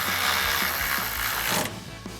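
A ratcheting socket wrench tightens a bolt on a Tacoma retractable bed step, giving rapid repeated clicking strokes close up over a steady broadband hiss, with the clicks slowing near the end.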